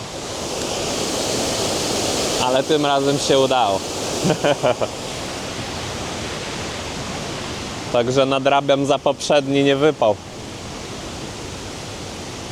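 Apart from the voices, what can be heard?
waterfall along the Monsal Trail, England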